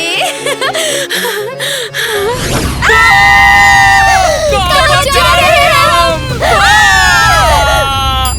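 Several people scream loudly in long, rising shrieks that repeat in bursts, close and overlapping, after a stretch of excited voices and laughter.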